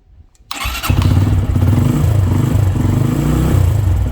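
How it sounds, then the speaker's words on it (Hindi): A motorcycle powered by a lithium battery self-starts after a brief silence: a short starter whir, then the engine catches and settles into a loud, steady idle close by. "अब हम इसको सेल्फ स्टार्ट दे रहे हैं।"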